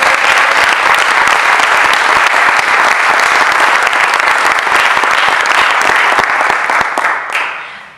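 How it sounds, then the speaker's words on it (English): A concert audience claps for Evan: loud, dense applause from a full crowd, sustained and close, fading away at the end. "So if we could just clap for..."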